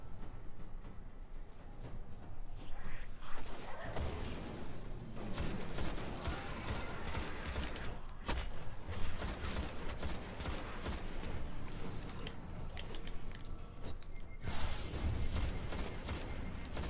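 A firefight in the Destiny video game on PS3 crackles with dense, continuous gunfire, rapid bursts and louder sharp shots overlapping throughout, busy and fairly close, with no talk.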